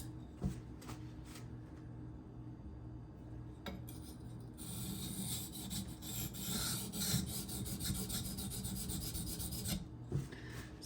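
Steel blade of an ESEE Izula II knife scraped steadily across a sharpening stone, working out factory scratches and raising a burr. A continuous gritty rasp with repeated strokes grows louder midway, close and without talk.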